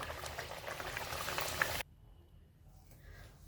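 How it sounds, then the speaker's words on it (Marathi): Steady bubbling sizzle of puris deep-frying in hot oil, fairly loud and close, then dropping abruptly to a quiet low hiss. "आता राहिलेल्या पुऱ्या मी अशाच पद्धतीनं तळून घेते"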